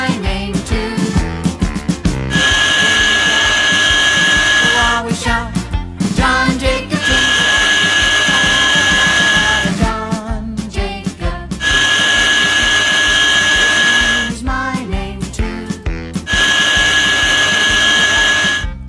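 A cartoon excavator fitted with a saw cuts ice blocks on a frozen lake, giving loud, buzzing, drill-like bursts that repeat in sections over steady music.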